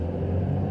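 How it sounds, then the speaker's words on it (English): Car driving noise heard from inside the cabin: a brief, steady low rumble of engine and road, with no voices. "I'm driving, so excuse the noise that you're probably going to hear."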